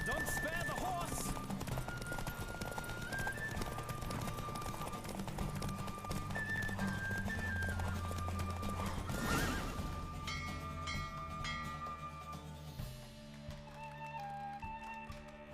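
Rhythmic clip-clop of galloping hooves and a horse whinnying in The Witcher 3: Wild Hunt, layered over a busy music score and game sound effects.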